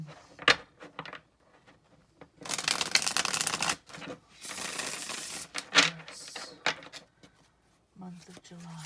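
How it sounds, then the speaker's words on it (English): Tarot cards are riffled and shuffled in several bursts, crisp flapping and snapping sounds with pauses between, a voice speaking briefly between them. "My shuffling takes a little bit of time"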